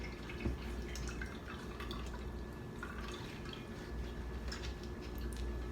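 Homemade almond milk drips and trickles into a pitcher after being poured, with soft, close liquid patters and splashes over a steady low hum.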